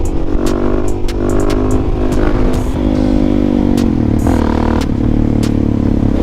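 A Suzuki DRZ400 supermoto revs hard and continuously in third gear while held up on its back wheel, loud and close with a steady engine drone, slight pitch shifts and gritty clatter throughout.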